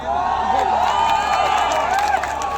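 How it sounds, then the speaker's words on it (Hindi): A crowd at a Bhojpuri film stars' stage event in Buxar claps and cheers loudly, a sustained wash of applause and shouting with a singing or whooping voice riding over it. "हल्ला करके ताली बजाना"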